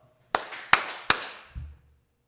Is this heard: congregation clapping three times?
yes